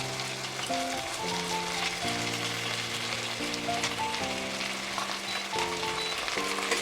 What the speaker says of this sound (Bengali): দিয়ে মাটনগুলো একটু পেঁয়াজের সঙ্গে ভাজা ভাজা করে নেবো